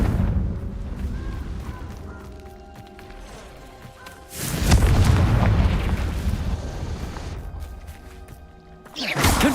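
Booming fire-spell explosions from the video game Hogwarts Legacy: a loud blast erupts midway and rumbles on, and a second burst hits at the end, over a low, busy combat background.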